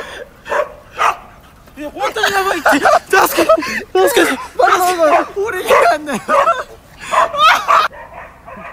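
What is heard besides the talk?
dog barking while attacking a friend at a hotel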